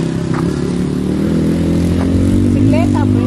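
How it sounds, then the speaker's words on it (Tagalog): A motorcycle engine idles and runs nearby with a steady low throb, while people talk over it. "So ayan may mga nagpapaandar ng motorsiklo."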